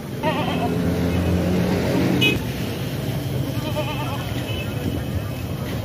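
Goats bleating at a cargo depot in Pakistan, a few close wavering bleats rising over a busy background hum of engines and movement, with people talking nearby.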